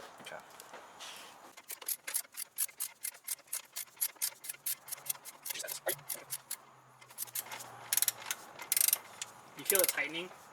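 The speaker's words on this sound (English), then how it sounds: "we're going to torque it to 35 foot-pounds" A torque wrench ratchets on transmission mount bolts of a 1987-1990 B12 Nissan Sentra, with quick repeated clicks in steady bursts close to the mic, broken by short pauses and a little talk.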